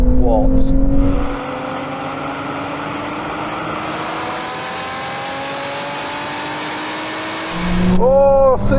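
A supercharged sports car launches hard in a drag race, engine roaring loudly at first, then settling into a long steady whine climbing through the gears, before a sharp revving burst at the end.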